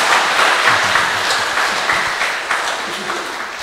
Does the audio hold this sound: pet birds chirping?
no